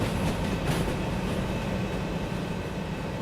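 A train rumbles along the track in the Derail Valley railway simulator game, with a loud, steady, close rolling drone and a faint rhythmic clatter throughout, alone with no voices.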